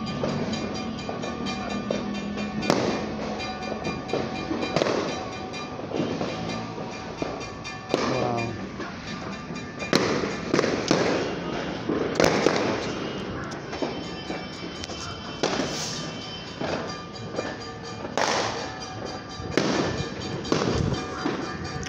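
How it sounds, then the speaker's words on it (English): Repeated New Year fireworks bursts and crackling pops go off irregularly, loud and sharp, with a busy, echoing background of ongoing explosions. "Can't believe fireworks."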